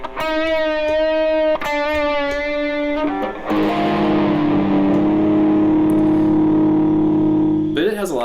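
An electric guitar runs through a Super Shifter pitch pedal, holding loud distorted chords that bend downward in pitch, then swell into a sustained, wavering lower drone.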